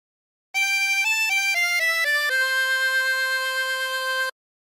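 A 24-hole tremolo harmonica plays a phrase of La Cucaracha: a quick run of short reedy wavering notes stepping up and down, then one long sustained note, clear and close with silence before and after.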